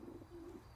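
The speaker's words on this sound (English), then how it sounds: "let's go to the pigeon coop" Pigeons cooing in a coop, a low steady throaty coo running through the short moment, moderately close and alone without talk.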